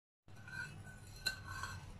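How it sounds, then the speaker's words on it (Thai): A spoon stirring sugar and water together in a microwave-safe container to dissolve the sugar, producing a steady close scrape and swish with one brighter clink partway through. "คนให้น้ำตาลละลายนะคะ"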